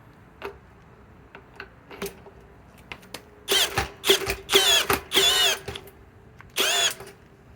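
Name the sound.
Harbor Freight Hercules drill driver running on speed 1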